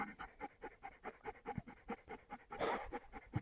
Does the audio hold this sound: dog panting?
yes